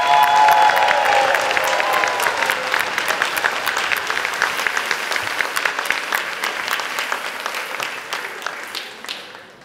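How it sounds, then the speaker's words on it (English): A round of applause at a healthcare trust's recognition and long service awards ceremony, many hands clapping densely and loudly from a large audience, with a few faint cheers, gradually thinning out near the end. "us recognize our highly commended teams with a round of applause"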